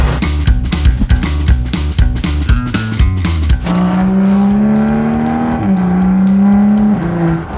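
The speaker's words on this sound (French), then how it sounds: "le moteur N55, je l'ai pris pratiquement que pour le bruit" A BMW N55 engine revs hard in rapid bursts, then holds a loud, rising drone as it accelerates through gears, close and aggressive.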